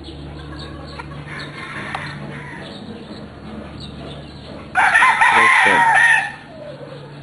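A straight-comb, round-headed rooster crows loudly and close for about a second and a half, following quieter clucking and farmyard murmur, while someone talks briefly over the start.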